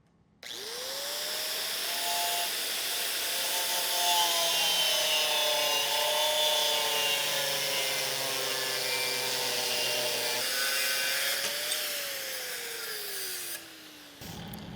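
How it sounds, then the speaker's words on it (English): A cutoff wheel whines steadily while trimming a Jeep LJ fender for a corner guard, its pitch sagging and climbing under load for about fourteen seconds, loud and close with no talk. "then we'll trim that with the cutoff wheel and clean it up with the DA"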